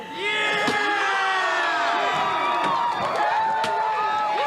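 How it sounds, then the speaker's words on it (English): A dense, continuous crowd roar of a race crew at a NASCAR Whelen Modified Tour race at Thompson Speedway, with overlapping high shouts and whoops, loud and close, with a few sharp bangs scattered through. "hear the screams and the cheers of the crew all around."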